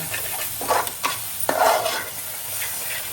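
Masala for a crab curry sizzling in oil in a pot, a constant close hiss broken by two or three quick scraping stirs of the spoon, with no voices.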